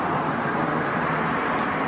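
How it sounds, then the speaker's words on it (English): Steady low rumble of a bus idling close by at a stop, a continuous engine drone with no clear change across the short stretch. "Okay, the bus is here."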